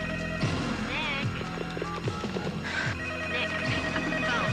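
A telephone rings in repeated electronic trills over a domestic scene, with background noise and brief voices in between.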